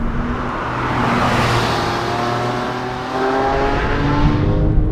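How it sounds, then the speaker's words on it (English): Engine of a 2006 Porsche 997 Carrera S pulling steadily from inside the car, a continuous droning hum that builds slightly in loudness as it accelerates, with no talking. "So we're driving a Porsche"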